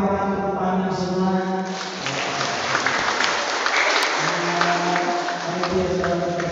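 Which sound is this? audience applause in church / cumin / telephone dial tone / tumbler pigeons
audience applause in church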